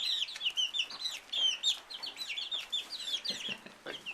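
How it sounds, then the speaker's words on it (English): Five-week-old chicks, among them a bantam barred rock, cluck and cheep steadily and close by, with high chirps coming one after another and no voices over them. "That's a bantam barred rock."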